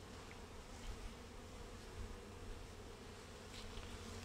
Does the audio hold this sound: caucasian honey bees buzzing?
yes